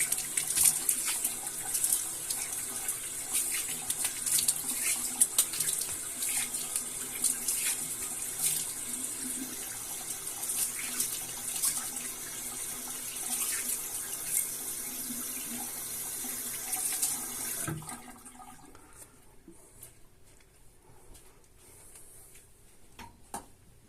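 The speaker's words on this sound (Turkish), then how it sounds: "Hemen bir yüzümü yıkıyorum." Tap water runs steadily into a bathroom sink while a man washes his face after shaving, with splashes and small knocks over the continuous flow. The water stops abruptly near the end, leaving a quiet room.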